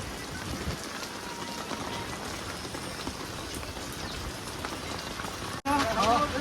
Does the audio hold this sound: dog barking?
no